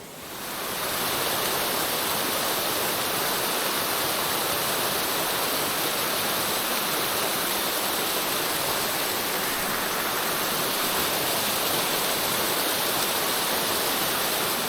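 Big Rock Falls, a Virginia waterfall, roars in a continuous, dense rush of white noise, loud and close, with no other sounds breaking through.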